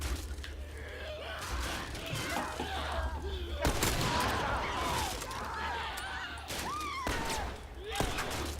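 Gunshots in the video game The Last of Us Part II, a few sharp cracks cutting through a busy backdrop of game ambience and voices, spaced unevenly over several seconds.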